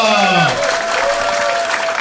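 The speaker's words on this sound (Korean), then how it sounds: "예, 큰 박수 부탁드리겠습니다." Audience applause rises with a crowd clapping steadily, a voice briefly heard at the start over the noise.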